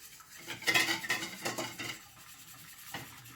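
Egg yolk being mixed with water for tempura batter, with a utensil clinking and scraping against a bowl in a few quick, close strokes before it quiets.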